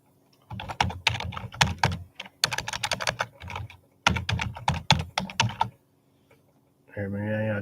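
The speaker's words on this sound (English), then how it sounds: "I got to go back and retype so it doesn't look like I'm typing gibberish" Rapid keystrokes on a computer keyboard come in close, fast bursts separated by short pauses, followed by a brief tonal sound at the end.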